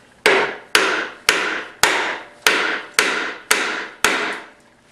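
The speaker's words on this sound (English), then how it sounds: "So I'm just going to hit it with a hammer to make it a little bit easier to start." A hammer strikes a Honda D16Y8 VTEC engine's alternator eight times in a steady, evenly spaced rhythm, each blow sharp and loud with a short ringing decay.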